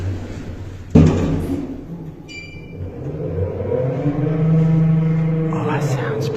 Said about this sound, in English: So this lift might have a Zinder motor. It sounds a bit like it, really bad bearing on it.